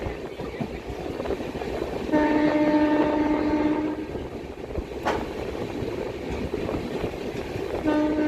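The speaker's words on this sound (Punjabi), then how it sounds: "ਅਜੀਤਵਾਲ ਰੇਲਵੇ ਸਟੇਸ਼ਨ ਜਿਹੜਾ ਹੈ ਉਹਨੂੰ ਅਸੀਂ ਕ੍ਰਾਸ ਕਰ ਰਹੇ ਹਾਂ" An Intercity Express train rumbles through Ajitwal railway station between Ludhiana and Ferozepur with steady rolling noise, and a loud sustained horn blasts for a couple of seconds, then sounds briefly again near the end.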